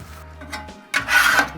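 A metal spatula scraping the cooking surface clean after bacon for smash burgers, heard as a faint rasp early on and then a louder, longer gritty scrape.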